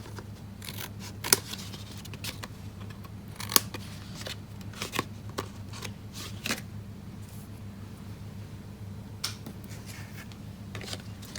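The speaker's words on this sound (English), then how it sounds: "I'm going to just go through with my snips and just cutting off" Paper snips cut through card stock on the back of a card base, a series of close, crisp snipping clicks at irregular intervals, some sharper than others, over quiet rustling without speech.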